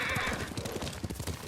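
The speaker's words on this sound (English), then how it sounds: "Lord Sakai taught me to ride a horse." A horse in the video game Ghost of Tsushima, with rapid rhythmic hoofbeats and a brief whinny at the start, heard fairly faintly.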